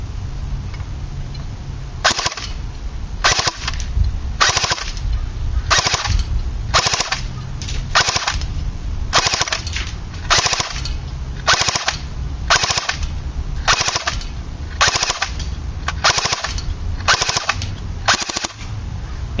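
An AGM Sten gun fires full auto in a long series of short, sharp bursts, about a dozen in all. They sound loud and close, with brief gaps between them.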